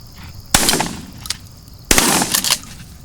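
Two loud, close gunshots fired at game during a hunt, each a sharp crack followed by a long rolling echo, with the second shot roughly 1.4 seconds after the first.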